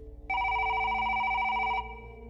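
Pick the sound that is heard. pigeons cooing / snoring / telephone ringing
telephone ringing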